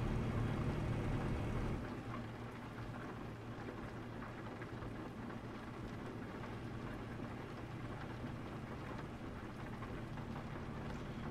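Steady rain falls in Euro Truck Simulator 2 during a truck drive from Berlin, a constant hiss of drops on the cab with a deeper low rumble underneath, slightly louder at the start, with no talk.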